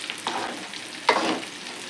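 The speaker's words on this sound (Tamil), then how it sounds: "கலக்கி விட்டு அப்படியே மூடிடுவோம்." Chicken gravy stirred in a cooking pot, a close, soft scraping swish of the spoon with a gentle simmering hiss beneath, two distinct strokes in a short moment.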